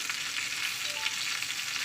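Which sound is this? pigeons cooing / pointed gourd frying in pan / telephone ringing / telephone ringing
pointed gourd frying in pan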